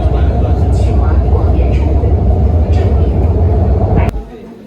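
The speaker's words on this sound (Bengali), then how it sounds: "ওদের মেট্রো কত স্পিডে চলে দেখছেন?" Loud, steady low rumble and roar of a metro train in China moving fast, with voices talking faintly over it, then an abrupt drop to quieter sound near the end.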